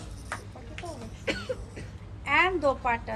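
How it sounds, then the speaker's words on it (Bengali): A child coughs several times in short bursts, close by, with an adult voice talking in between. "হ্যাঁ দাও কাশি দাও, কিছু হবে না, দাও কাশি দাও বাবা, কাশি দাও"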